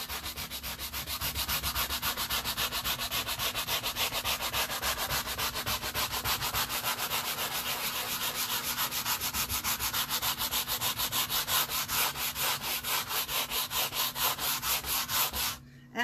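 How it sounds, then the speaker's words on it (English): A small nylon scrub brush rubs wax into fabric in fast, even back-and-forth strokes, a steady scratchy rhythm that continues for many seconds and then stops, with no talk. "So what I did is I took a nylon scrub brush, this is just a little nylon scrub brush. And I took that wax."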